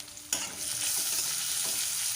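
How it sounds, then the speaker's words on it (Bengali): Onions with a little salt fry in a pan with a steady hiss, while a sharp utensil scrape near the start and softer stirring knocks come through over the continuous sizzle. "পেঁয়াজের মধ্যে সামান্য একটু লবণ দিয়ে ভাজবো তাহলে প্যাঁচটা তাড়াতাড়ি ভাজা হয়ে যাবে"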